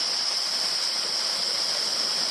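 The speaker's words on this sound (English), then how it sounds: "I've reached a really cute little waterfall along the circuit" A small waterfall on Toolona Creek in Queensland pours in a steady, unbroken hiss of falling water, close and even throughout.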